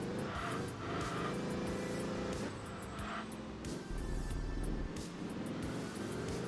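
Race car engine in the Enthusia Professional Racing video game, a continuous loud droning roar whose pitch climbs and drops with gear changes, other cars audible alongside, no talking.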